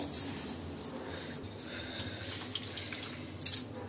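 Large lemons rinsed under a running kitchen tap give a soft, steady splashing hiss with faint dribbles, moderately quiet and without voices.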